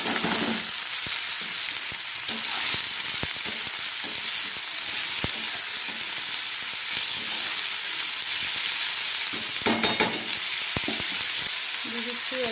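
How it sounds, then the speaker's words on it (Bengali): Vegetables fry together in hot oil in a pan, giving a steady, close sizzle with occasional stirring clicks and scrapes throughout, no voices. "সব একসাথে দিয়ে একসাথেই ধুয়ে ভেজে নিচ্ছি"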